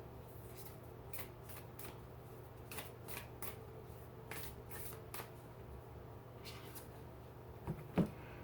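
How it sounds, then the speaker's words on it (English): A deck of tarot-style cards being shuffled by hand in a quiet room, a series of soft riffling bursts close by, ending with a sharper tap. "I like the way this deck shuffles, too."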